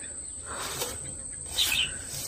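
Birds chirp in short, faint bursts among bayberry trees in an orchard, with one brighter cluster of calls over a steady high insect whine and light background hiss.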